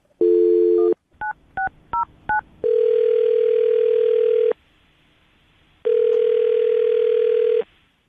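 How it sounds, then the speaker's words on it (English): A steady telephone dial tone, then a quick series of touch-tone dialing beeps, followed by two longer ringback tones with a pause between them. "I'll dial the phone number right now."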